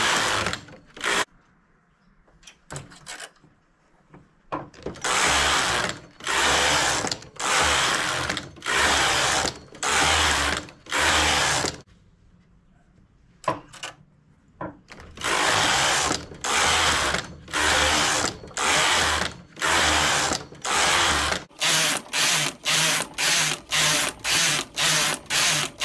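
A knitting machine works a smocked collar, its carriage sweeping across the needle bed in loud, rhythmic mechanical passes separated by short pauses, with the strokes coming faster and shorter near the end.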